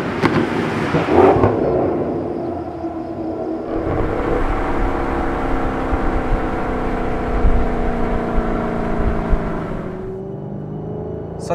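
A 2013 Maserati GranTurismo S with a 4.7 liter V8 and MC gearbox drives along, its engine droning steadily from inside the car with rising and settling tones as it accelerates and cruises, no talking.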